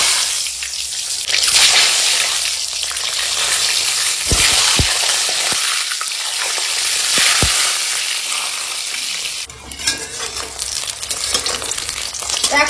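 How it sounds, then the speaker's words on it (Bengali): Eggs spatter and sizzle in hot oil while a tomato and soybean curry is prepared, loud crackling frying with a few sharp utensil knocks and no talking. "তেল গরম হয়ে গেছে, ডিমটা ভেজে নেব।"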